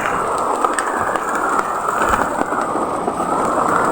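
Heavy rain pouring down outdoors, a dense, steady roaring hiss with faint rumbles underneath, loud and continuous with no pauses.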